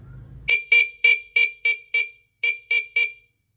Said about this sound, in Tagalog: Ito yung stock na tunog ng busina niya.